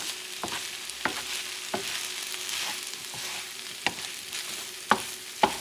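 Sofrito and scallops for a rice dish stir and sizzle in a pan over heat just below medium, a steady hiss broken by periodic sharp scrapes of the spoon against the pan, moderately close with no talking.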